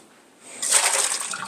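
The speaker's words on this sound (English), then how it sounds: "Turn off the back burner and drain this tofu." Water poured off tofu heated in salted water, draining into a sink with a sudden rushing splash that starts faintly and swells to a steady close pour.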